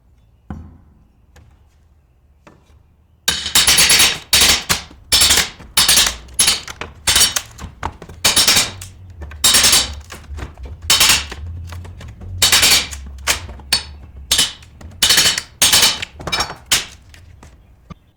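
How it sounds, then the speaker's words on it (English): Loud, sharp hammer blows strike wooden pallets in an uneven but steady rhythm, close by, with cracking and clattering as boards are torn apart between hits and no talking. "tear apart pallets and the tools we use to do it with."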